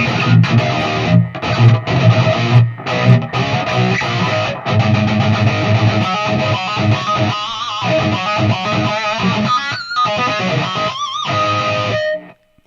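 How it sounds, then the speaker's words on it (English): Heavy, dry electric guitar playing continuously with thick sustained chords and no echo tails, loud and close, ending abruptly. "So no more delay. My guitar's going to sound like this."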